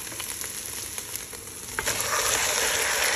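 Duck pieces are dropped into a pot of frying onions, giving a steady sizzle that grows louder and denser partway through, close up with no talking.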